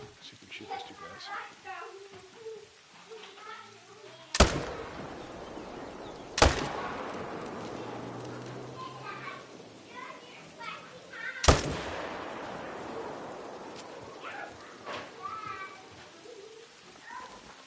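Three sharp, loud gunshots ring out several seconds apart at wild boar in a hunting video game, each followed by a short echoing tail, over a quieter bed of ambient bird and outdoor sounds.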